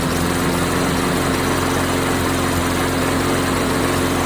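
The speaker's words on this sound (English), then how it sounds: "The pink mower is running!" An old pink lawnmower repowered with a new engine runs at a steady idle, a loud, continuous buzzing drone with a rough, throbbing low pulse and no other sounds.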